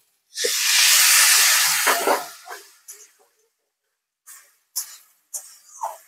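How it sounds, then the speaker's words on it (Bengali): Water splashed into a hot pan of fish roe gives a loud, close hiss that peaks and fades over about two seconds, followed by a few short sizzling bursts and pops. "মাছের ডিমের বাটিটাতে সামান্য একটু জল দিয়ে এই জলটা দিয়ে দিচ্ছি"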